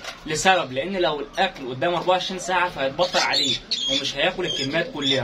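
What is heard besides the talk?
hungry pigeons squawking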